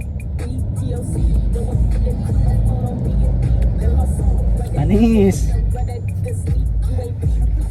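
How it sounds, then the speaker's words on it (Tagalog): Road traffic at rush hour rumbles steadily around a car, with engines droning low and a passing vehicle rising briefly near the middle, while people talk over it. "Naabutan na kami ng traffic"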